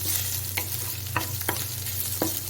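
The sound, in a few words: stirring and frying crushed ginger and garlic in oil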